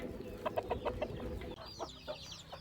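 Chickens cluck and call steadily while pecking at chopped fenugreek and spinach leaves scattered for them, with a burst of rhythmic clucks that thins into quieter, scattered calls.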